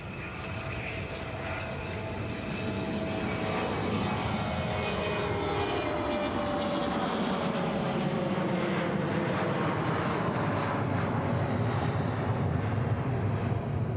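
Airliner taking off at Sydney Airport, a loud, sustained engine roar with a falling Doppler whine as it climbs past nearby, steady throughout with no talking.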